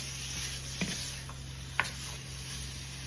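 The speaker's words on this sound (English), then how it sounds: "let's go ahead and put our lobster in" Lobster pieces frying in a hot pan give a soft, steady sizzle, close but quiet, with two small clicks of utensil against pan and no voices over it.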